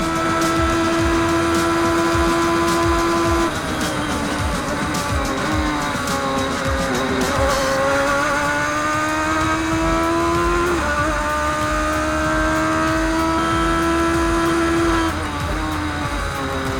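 A sim racing game's race car screams down the straights in Dubai, the engine holding a loud, sustained high-pitched drone that climbs through the gears with brief dips at upshifts, other cars faintly audible around it.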